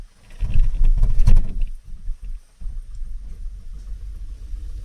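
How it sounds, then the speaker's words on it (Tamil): A truck on a road in heavy rain, a loud low engine rumble surging close, then fading to a steady lower drone with wet road noise. "வண்டி வருதுங்க பெருசாக"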